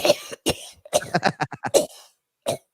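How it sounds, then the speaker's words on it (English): A string of short, sharp coughs comes in quick clusters, close and fairly loud, ending with one final cough after a brief pause. "He starts coughing."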